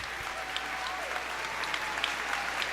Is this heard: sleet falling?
no